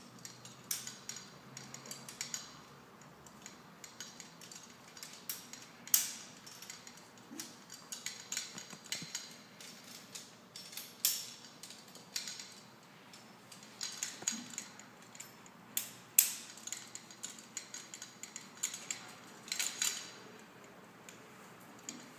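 Rope main line fed through a metal brake bar rack, giving a steady run of small metallic clicks and ticks with brief jangling clanks scattered throughout, close and fairly quiet with no talking.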